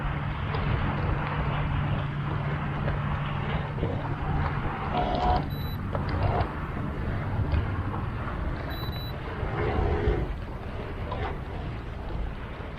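Steady outdoor rumble of boat engines on a lake in the evening with some wind, a low continuous hum running throughout, no voices.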